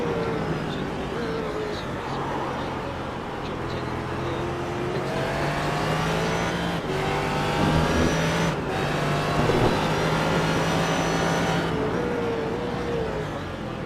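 An onboard race car at the iRacing 24 Hours of Daytona drones with a steady engine tone, its pitch sagging and shifting as the engine fails, with a brief break in sound midway and faint voice underneath.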